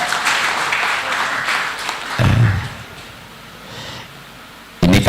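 Crowd noise at a Scout Day anniversary ceremony in Tegal, a loud, continuous wash of applause and cheering from a large gathering, dipping and swelling, with a burst of noise at the end.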